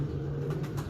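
A light-bodied pigeon coos, a low steady murmur close by, with faint rustling above it in a short burst.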